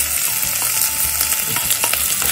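Onions stir-frying in a pan over high heat, a loud steady sizzle with light scraping and tapping from stirring throughout.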